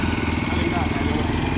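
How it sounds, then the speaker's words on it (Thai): A small vegetable-planting vehicle engine putters and revs steadily at close range, a buzzing mechanical drone filling the whole moment. "อยู่ที่เราเร่งเครื่องเลยโอ้โหสุดยอดมีรถปลูกผักด้วยอ่ะ"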